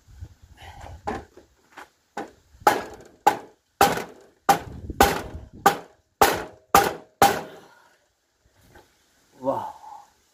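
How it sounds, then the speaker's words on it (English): A hammer strikes a Peugeot 404 BA 7 four-speed gearbox about a dozen times, sharp metallic blows in an uneven but steady rhythm, loud and close, with a brief voice near the end. "Let's see if I can use this hammer."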